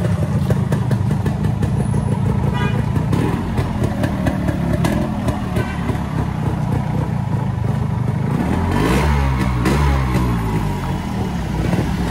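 A motorcycle engine runs steadily and loudly close by with some mechanical clatter, its pitch climbing and falling in a rev swell around the nine-second mark.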